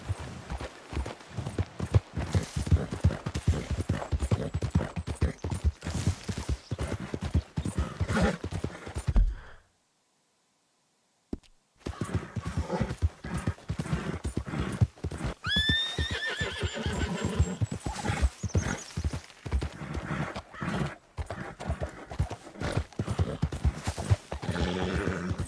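A video game horse whinnies and trots, its hooves clip-clopping in quick steady rhythm, neighs rising over the hoofbeats, broken by a brief silent gap before the galloping resumes.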